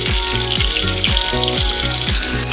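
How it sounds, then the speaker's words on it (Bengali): Pointed gourd frying in oil with nigella seeds and green chilli, a steady close sizzle with a repeating rhythmic clatter, likely stirring against the pan, running alone without talk. "কালো জিরে আর কাঁচা লঙ্কার মধ্যে আমি পটলগুলোকে ভাজবো।"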